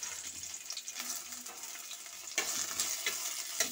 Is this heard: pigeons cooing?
no